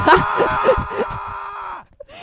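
A scream from an item in the Roblox game Lucky Block Tycoon rings out as a loud, sustained tonal wail over game sounds, then cuts off abruptly near the end.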